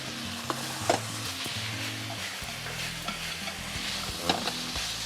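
Sliced onion stir-fried in a hot wok for General Tso's or Gong Bao chicken, giving a steady close sizzle with scraping and stirring clatters over a continuous low rumble, no talking.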